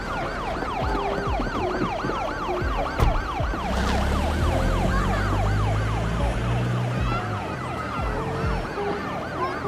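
A wailing ambulance siren cycles rapidly up and down, loud and near, over a low rumble of traffic and a passing vehicle.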